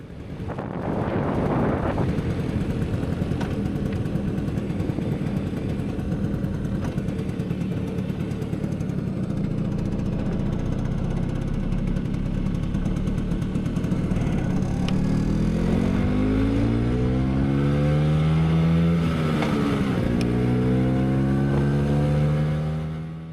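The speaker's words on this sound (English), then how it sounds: "Smooth acceleration, buttery smooth shifting." A 1981 Vespa scooter with a four-speed manual gearbox drones steadily under heavy wind buffeting, its engine pitch climbing and dropping as it accelerates and shifts near the end.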